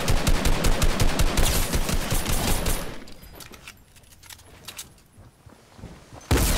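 Sustained loud automatic gunfire from a Fortnite battle, dense rapid shots for about three seconds, then scattered quieter shots and clatter before a final loud burst.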